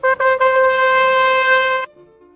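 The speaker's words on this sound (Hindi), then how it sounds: "घर के नीचे हॉर्न बजाता है" A car horn blares outside a house in two short taps followed by one long sustained honk, loud and close, then cutting off abruptly into quiet.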